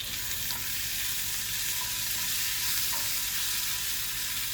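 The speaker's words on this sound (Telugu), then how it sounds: "టమాటోని బాగా వాడ్చుకోవాలి" Chopped tomatoes frying in a pan for potato rice, a steady close sizzle with soft stirring scrapes running unbroken throughout, no voices.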